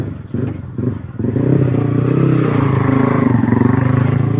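Honda Wave 110i motorcycle engine cranking but failing to start despite having compression and spark, a loud close rhythmic churning from the starter that runs on steadily without catching.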